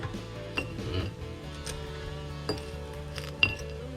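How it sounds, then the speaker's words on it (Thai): Metal tongs lift air-fried, salt-marinated CP chicken wings onto a plate, giving a few sharp, quiet clinks and taps spaced over a few seconds against a soft kitchen background. "เดี๋ยวเราจะ คีบมาใส่จานนะครับ"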